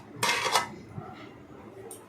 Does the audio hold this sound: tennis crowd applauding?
no